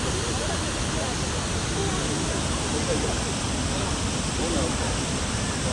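Manavgat Waterfall pours in a steady, dense roar of falling water, a broad unbroken rush heard close and loud throughout, with faint voices mixed in beneath it.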